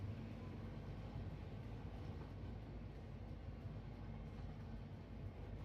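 A train in the factory-building game Satisfactory gives off a continuous low rumble and rolling drone, steady and moderately loud, with no talk over it.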